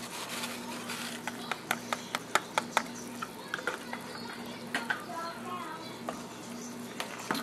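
A spoon stirs beef stew mix into boiling water in a pot, giving quiet scraping and a string of sharp clicks against the pot over a low simmer, with faint talk.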